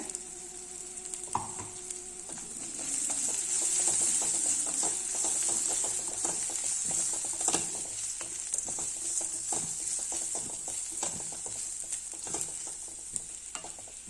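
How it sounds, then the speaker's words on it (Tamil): Ground masala sizzling and frying in a pan for lemon rice, stirred steadily over low heat, with a continuous bright hiss and scattered clicks of the spoon scraping the pan, alone with no voices. "இப்போ இந்த அரைச்ச மசாலாவை இதில் சேர்த்துடலாம் நல்லா சிம்மில் வச்சு ஒரு ரெண்டு நிமிஷம் மட்டும் கலரி விடுங்க"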